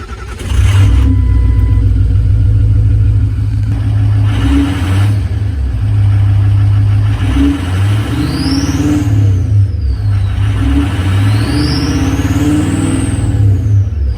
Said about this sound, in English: Let's turn the car on so you can see the voltage coming from this high output alternator that we got.